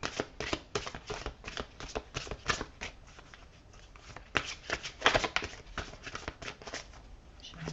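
Oracle cards are shuffled and drawn, a close, quiet run of rapid riffling flutters and soft slaps in irregular bursts, with no talk.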